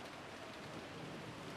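Rain falls steadily as a soft, even broadband hiss, faint and unbroken, with a faint low rumble beneath and no voices.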